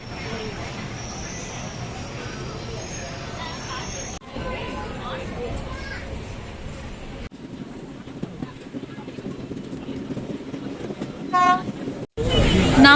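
A passenger train departing Yesvantpur rumbles along steadily with broadband running noise, a couple of abrupt shifts in the sound, and a brief horn-like tone near the end.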